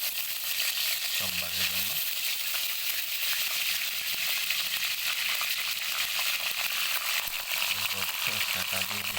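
Dried red chillies frying in a pan, giving a steady broadband sizzle that runs throughout, with brief bursts of a voice talking over it.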